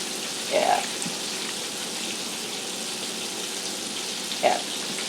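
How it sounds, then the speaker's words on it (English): Steady hissing sizzle of Southern fried chicken frying in a pan, close by, with two brief brighter bursts of sound near the start and end. "I can kind of judge the sizzle and get an idea"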